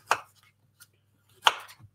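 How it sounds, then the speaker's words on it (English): Knife chopping fruit on a cutting board for oat muffins, two distinct chopping bursts about a second apart with a faint tap between, close and clear, no talk. "I'll just keep chopping things up till it's full"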